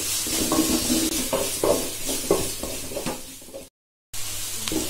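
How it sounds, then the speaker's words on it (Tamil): Ginger garlic paste sautés in a hot pan for chicken curry, a steady sizzle broken by rhythmic scraping strokes of a spoon stirring, close up with no talking. "இப்போ நல்லா இதை வதக்கிக்கலாம்."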